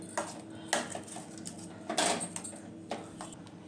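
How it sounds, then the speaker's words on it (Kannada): A spoon scrapes and knocks around a pan as a semolina and milk burfi mixture with ghee is stirred, giving irregular metallic clinks and scrapes, close and fairly quiet. "ಇದು ತಳ ಬಿಡೋವರೆಗೂ ಸ್ವಲ್ಪ ಹೀಗೇ ತಿರುಗಿಸ್ತಾ ಇರಬೇಕು"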